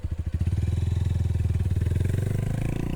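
A motorcycle engine chugs steadily at close range during A2 licence riding practice, its rhythmic low pulses holding a constant, moderately loud idle-to-low-rev beat throughout.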